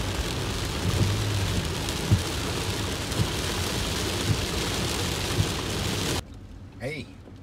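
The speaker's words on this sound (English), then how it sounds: "Nantucket Sound is full of lightning, thunder, and downpours right now." A thunderstorm over Nantucket Sound: heavy rain pours in a steady, dense roar with a few dull thunder thumps. The downpour cuts off abruptly near the end, leaving a quieter, muffled background.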